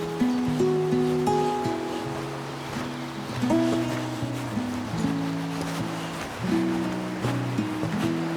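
A river at Lud's Church flows beneath a gnarly old overhanging tree, giving a steady rushing wash of water. Musical tones play over it throughout.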